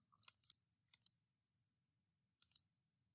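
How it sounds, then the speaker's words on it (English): Computer mouse clicks arrive in three quick pairs of sharp, close double-clicks separated by silence. "So if you just click back over to module 1."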